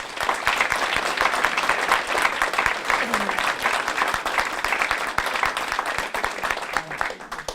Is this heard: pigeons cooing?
no